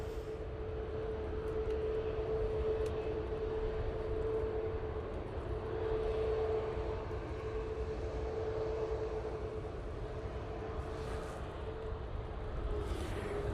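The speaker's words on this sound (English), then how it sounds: "Ryanair 737 MAX 8" A Ryanair Boeing 737 MAX 8 in Malta Air colours starts its takeoff roll at Manchester Airport, a faint, steady jet roar with a sustained whine held far off throughout.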